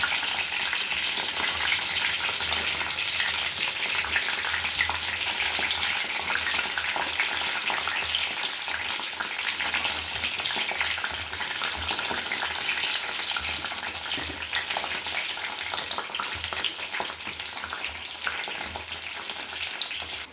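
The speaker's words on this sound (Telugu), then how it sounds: "అయితే ఇలా వేగుతున్నాయి." Cut brinjal (eggplant) pieces fry with masala in a pan, giving a loud, continuous, dense sizzle with faint stirring, heard alone throughout.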